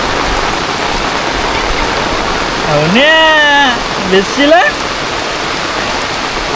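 Heavy rain pours steadily over village fields in the Konkan, a dense continuous hiss close by, while voices speak briefly through the downpour.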